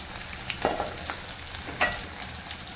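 Onions sautéing in a pan for Salem-style idli sambar, a quiet steady sizzle with a few soft stirring scrapes, no talk over it.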